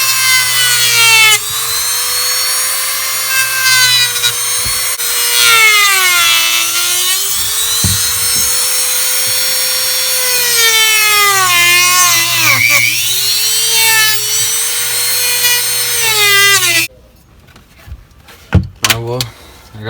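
Power tool cutting through a plastic car console for a console swap on a Honda Civic EG, a loud whining drone with rising and falling pitch that runs steadily for about seventeen seconds, then stops, followed by brief handling clatter.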